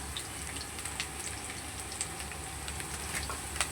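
Potato pieces frying in oil in a pan while being stirred, a steady soft sizzle with small crackles and pops throughout.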